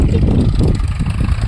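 A tractor engine idles close by, a steady loud low rumble with a rough, pulsing throb and some wind buffeting on the microphone, with no voices over it.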